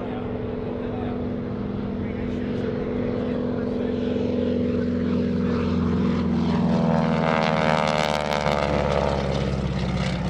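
A radial piston engine airplane, built around 1944, drones steadily and loudly at an airshow, its rough propeller rumble building toward the end as if passing close.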